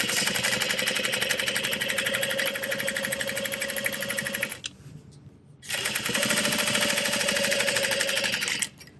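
A sewing machine top stitches bag panels in a rapid, even motorized chatter, loud and close, pausing for about a second midway before resuming and stopping near the end.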